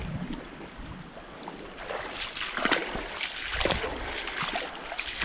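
Water splashes and churns as someone wades upstream while hiking up a shallow river between Dixie National Forest and Escalante, with irregular sloshing bursts, close and moderately loud, no talking.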